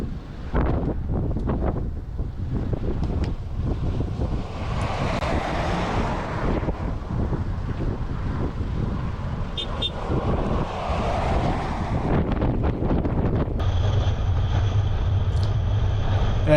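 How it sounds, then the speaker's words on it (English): Strong wind buffeting the microphone on an outback road near Broken Hill, a steady loud rushing roar that lasts throughout, with a low vehicle rumble joining near the end. "certainly at this particular time it was crazy windy"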